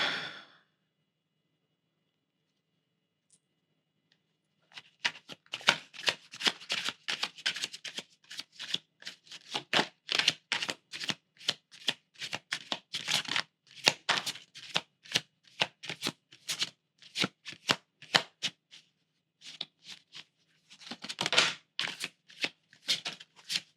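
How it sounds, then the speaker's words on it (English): Tarot cards are shuffled again and again at close range, brisk riffling bursts separated by short pauses, with a brief breath at the start. "if you just hear shuffling,"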